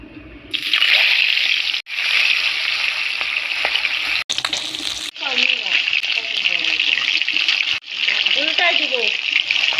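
Pabda fish slid into hot oil in a heated wok set off a loud, steady hissing sizzle with a couple of brief breaks, while a voice talks faintly over the cooking.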